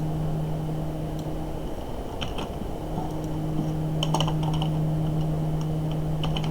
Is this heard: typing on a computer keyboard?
yes